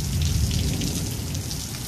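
Steady rain falls in a dense, even hiss of countless drops, with a low rumbling undertone and no voices.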